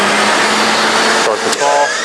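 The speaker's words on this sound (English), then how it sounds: "Dust collection, please." The dust collection system on a Model 204 saw runs as a loud, steady broadband roar. Its tone shifts briefly near the end.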